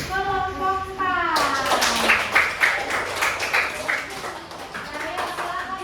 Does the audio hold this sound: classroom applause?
yes